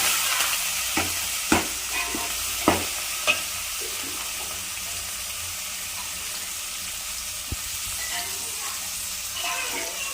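Ginger garlic paste, green chillies and curry leaves sauté in a pan for chicken biryani, giving a steady soft sizzle with a few sharp spoon-against-pan stirring knocks early on and no talking.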